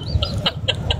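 A hen gives several short, sharp clucks in quick succession, loud and close, with no talking over them.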